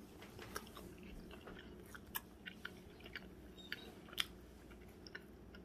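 Close, quiet chewing and biting while eating cayenne chicken and pierogies, with soft irregular crunches and wet mouth sounds spread across several seconds.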